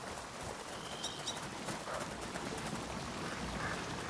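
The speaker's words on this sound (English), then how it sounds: "Oh, what are those birds?" Ducks call in A Plague Tale: Innocence, a few short, high chirping quacks that rise faintly over a steady outdoor ambience with no talking.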